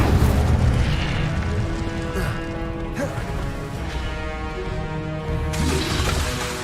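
Fiery spell blasts from combat in the Hogwarts Legacy video game, a dense run of booming bursts and crackling whooshes layered over game music, loud and continuous with swells near the start and end.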